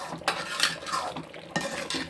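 A spoon stirs thick tamarind vegetable kootu (puli koottu) in a pot, making close, loud repeated scraping and knocking strokes against the metal.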